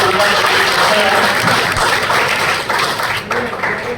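Dense crowd applause at a seminar fills the whole stretch, steady and loud, with a Hindi-speaking voice faintly mixed in.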